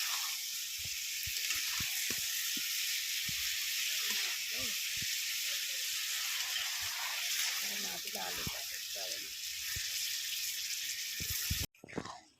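Potatoes frying in oil for Bengali dahi aloo hiss with a steady, loud sizzle as a little water goes into the pan, and a voice talks over it. The sizzle cuts off abruptly near the end.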